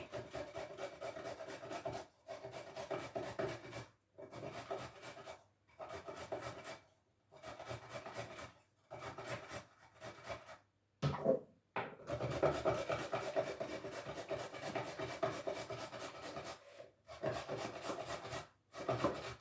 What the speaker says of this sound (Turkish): Ve havuçlarımı çekeyim.